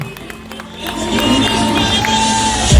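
An audience at a stage show in Durgapur featuring Star Jalsa television serial artists claps and cheers, a busy crowd wash that swells after a sparse start and holds loud, with scattered voices mixed in.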